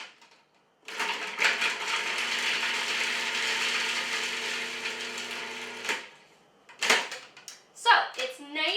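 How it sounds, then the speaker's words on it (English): A food processor chops garlic in a sustained, loud motor whir lasting about five seconds. Then it stops, and brief clatter and rattling bursts follow. "just put it in the food processor. We're going to run it through first to chop it up finer."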